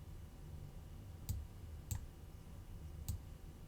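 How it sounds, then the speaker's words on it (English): Three quiet, crisp computer mouse clicks, spaced unevenly about a second apart against faint room hum. "Let me click on it."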